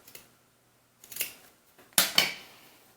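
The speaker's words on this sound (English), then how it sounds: "if you get some frays, you can just cut them off." Scissors snip away frayed threads along the stitched edge of a handmade doll bun maker, giving a few sharp, close cuts: a light one, a firmer one just after a pause, and a louder double snip at the end.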